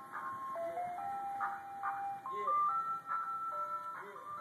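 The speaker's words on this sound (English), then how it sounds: "The hood ice cream truck." An ice cream truck plays its looping chime melody: bright, evenly paced electronic notes that repeat continuously at moderate volume over a soft background hum.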